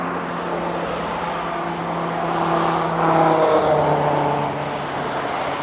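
Road traffic on a street outside a clinic in Enfield: a steady wash of passing cars, with one vehicle swelling louder as it goes by midway, then settling back into the continuous hum.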